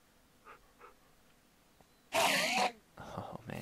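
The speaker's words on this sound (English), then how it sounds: "I've angered the first Enderman." An angry Enderman in Minecraft lets out a loud, harsh, distorted shriek that starts after a couple of faint breathy sounds, then a second rougher burst follows near the end.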